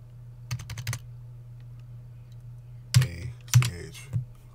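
Short bursts of typing on a computer keyboard, a few quick keystrokes, then a pause, then several louder clacking presses, close up in a quiet room.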